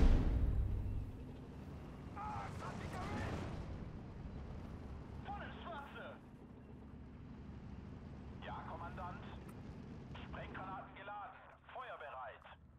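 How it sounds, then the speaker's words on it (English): Artillery fire in the WWII strategy game Steel Division 2 rumbles with a deep boom at the start, then continues as low distant thuds while a person talks over it. "See if I can keep this arty going."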